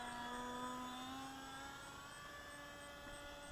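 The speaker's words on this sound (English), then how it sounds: "Nice little flyby. Neat airplane." A remote-control ICON A5 model airplane flies past with a steady, droning engine whine, fairly faint and fading slightly as it goes by, with no talking.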